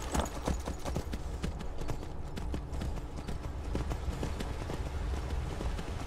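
A horse gallops in Skyrim, its hooves clip-clopping rapidly and steadily at close range over a busy game soundscape for the whole stretch.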